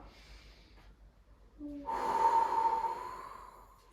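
A deep breath drawn in and pushed out during a gentle abdominal exercise, a single close, airy inhale-exhale swelling over about two seconds, preceded by a faint nasal sniff.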